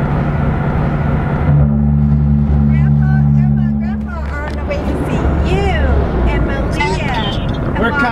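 A car drives along a road toward Texas, heard from inside the cabin as a steady low road rumble, with voices and chatter over it in the second half.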